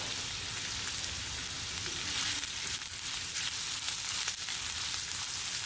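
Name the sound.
chopped raw onions frying in hot oil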